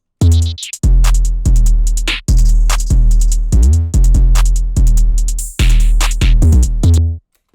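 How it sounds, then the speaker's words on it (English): A loud trap beat with booming 808 bass notes, punchy kicks and rapid ticking hi-hats, running steadily with no voices. "Together, the drums are going to sound like this."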